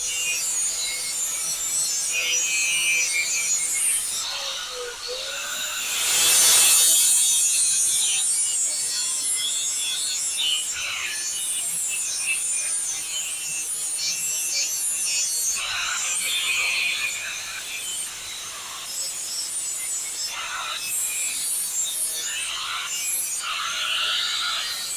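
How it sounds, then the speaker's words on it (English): An angle grinder works steel edges and corners, prepping them for welding in a workshop, with a steady close rasping grind that swells sharply midway and continues unbroken throughout. "For that, I'm going to use the angle grinder."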